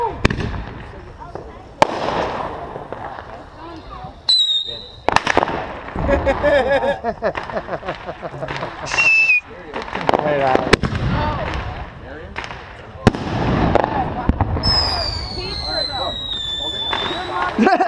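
Backyard Fourth of July fireworks crackle and pop in bursts, with whistling rockets streaking up and sharp bangs scattered throughout, while people nearby chatter and exclaim over the noise.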